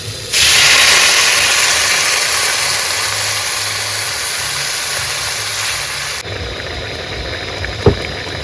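Water poured into a pan of hot shrimp curry bursts into a loud, close steaming hiss that holds for about six seconds, then drops away to quiet, with a single faint knock near the end.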